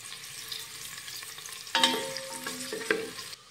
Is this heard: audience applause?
no